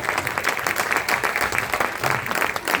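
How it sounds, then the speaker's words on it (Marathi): A crowd at a Geet Ramayan musical performance claps steadily for the costumed monkey-army performers, a full, even wash of applause with a slightly pulsing rhythm. "आमच्या वानर सेनेसाठी जोरदार टाळ्या होऊन जाऊ दे."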